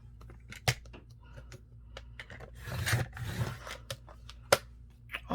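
Scissors snip through a trading card in a craft project, with sparse, sharp close clicks and a longer rustling cut in the middle, quiet overall.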